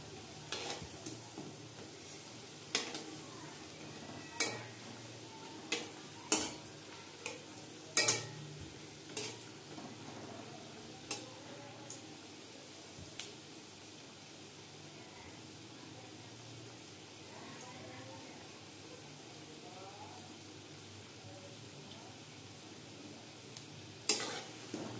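Fish egg fritters fry quietly in a pan, a faint low sizzle under a series of sharp spatula knocks and scrapes against the pan as they are turned, spaced irregularly and fading out midway.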